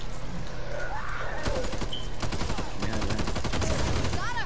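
Rapid video game gunfire, from the Call of Duty Cold War, Back 4 Blood or 2K22 gameplay, shooting at thrown gasoline, a dense burst of loud cracking shots with players talking over it.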